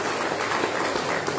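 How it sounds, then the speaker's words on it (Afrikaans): Church congregation clapping together in steady, dense applause, loud and close, filling the whole moment without any talk over it. "Kom ons gee weer soos verlede week 'n heerlike handeklap ook tot eer van die Here"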